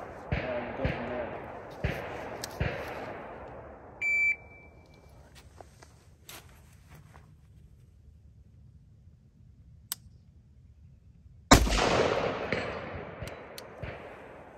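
Two sharp, loud precision rifle shots fired from a bag rest on an obstacle, one near the start and one around eleven seconds, each followed by a decaying boom, with scattered clicks and a brief beep between them.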